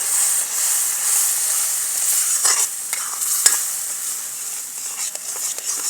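Loud, continuous sizzling and hissing as water is poured into a hot pan of almond halwa with raisins, cashews and coconut, broken by a few stirring scrapes and clicks.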